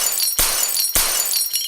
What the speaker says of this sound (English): The sound of broken glass and shouts of disbelief.